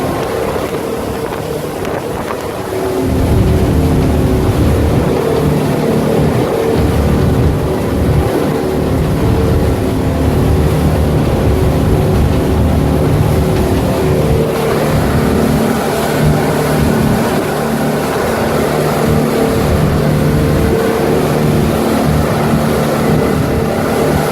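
A 2007 Prokat 2860 WA boat's outboard engine revs up and accelerates on open water off Seminole, Florida, its deep roar swelling after a few seconds and then holding loud and steady, mixed with wind buffeting and rushing water.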